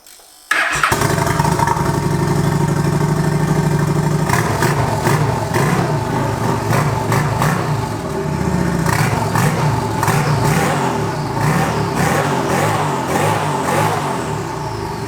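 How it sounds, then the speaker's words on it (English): A turbocharged motorbike running on race gas cranks into life and revs hard, its loud, close engine note rising and falling in repeated bursts with a whistling turbo edge riding over the rough idle. "I can hear turbo noises!"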